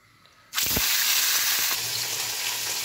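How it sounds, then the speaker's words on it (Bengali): Tangra fish pieces dropped one at a time into hot mustard oil in a kadai, bursting into a sudden loud, steady sizzle after a quiet moment and holding strong and close to the end. "কড়াইতে বেশ কিছুটা পরিমাণ সর্ষের তেল গরম করে নিয়েছি। এইবারে 1 পিস করে মাছ দিয়ে আমি ভেজে নেব।"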